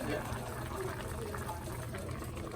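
Oxtails simmering in a pot, a continuous bubbling, gurgling wash of liquid heard close and moderately loud, with a voice talking over it.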